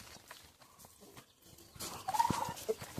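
A chicken in a rural coop gives a few soft clucks and low calls, faint and close, with quiet rustling before the calls grow a little louder near the end.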